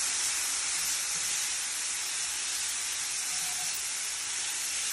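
Minced garlic sizzling in a hot pan alongside salmon for honey Cajun salmon, giving a steady, loud, close frying hiss that holds without a break.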